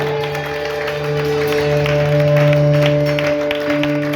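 Congregation applauding in praise of the Lord at a prophetic church service in Bingerville, a dense, steady wash of clapping with a sustained droning tone underneath throughout.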